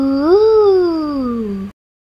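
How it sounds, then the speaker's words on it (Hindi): A fox call, one loud, close, drawn-out howl that rises, then slowly falls in pitch before cutting off abruptly, alone with no talking. "Lam se lomri."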